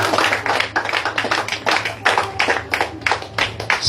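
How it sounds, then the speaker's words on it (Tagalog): Worshippers in a church congregation clap for the Lord in a steady, fast rhythm, with a dense run of crisp, evenly spaced claps carrying on for several seconds. "Ganyan po bang kalakas ang palakpak sa Panginoon?"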